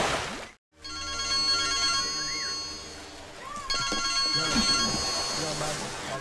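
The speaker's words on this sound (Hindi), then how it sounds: "ये उदय शेट्टी जो बार बार फोन पे फोन कर रहा है" A telephone rings repeatedly in a comedy film scene, its steady electronic tone running under voices and other background sound.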